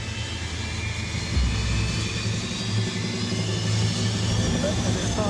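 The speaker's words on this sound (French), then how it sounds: "Les turbines sont mises en route à une 60aine de mètres du grillage." Jet airliner turbine engines spooling up before takeoff at a risky airport near a beach fence, a loud continuous roar with rising whine that fills the whole stretch, with people talking underneath.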